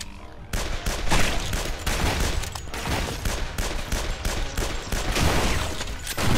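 Sustained, dense gunfire from the video game Guns, Gore and Cannoli, rapid overlapping shots and machine-gun volleys rattling loudly and continuously without pause.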